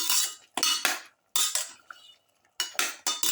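Utensil scraping and clinking in a pan while pepper lamb and winter melon are stirred together, several bursts of metallic scraping separated by short pauses, close and fairly loud.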